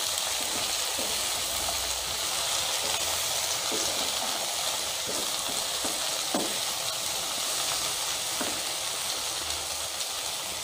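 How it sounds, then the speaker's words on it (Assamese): Pieces of ash gourd fry in a pan for an Assamese fish curry, giving a steady, close, dense sizzle that runs throughout, with occasional soft scrapes as the pieces are stirred. "এতিয়া মই ভোলখিনি অলপ হৈছে ভাজি"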